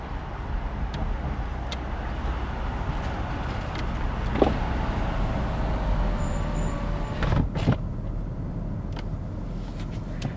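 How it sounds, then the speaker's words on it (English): Muffled V8 of a Mercedes-Benz S500 Coupe heard from the closed cabin while driving, a low steady hum under faint road noise with a couple of brief clicks. "The only thing you can hear, a little bit of it, is this mighty, powerful V8 engine in the front."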